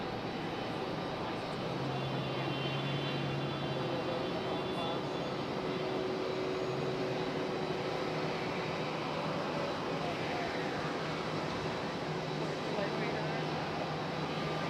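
A JetBlue Airbus A320 arriving at Raleigh-Durham International Airport, a steady jet engine roar with faint whining tones that holds evenly throughout, heard from a distance without speech.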